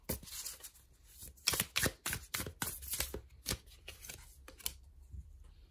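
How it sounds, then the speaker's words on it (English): Tarot cards being shuffled by hand: a quick series of crisp riffling bursts and soft slaps, close and fairly quiet, with brief pauses between. "let's give the cards a good shuffle"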